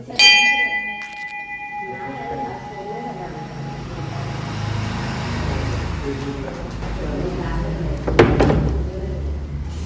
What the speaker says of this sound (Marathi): आपण पहिला घंटी वाजूया.